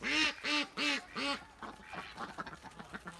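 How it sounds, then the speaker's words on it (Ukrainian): A Muscovy drake in a farmyard gives four loud, close, evenly spaced harsh quacks, followed by a softer, more scattered run of fainter calls and rustling. "Це звичайний качур мускусний."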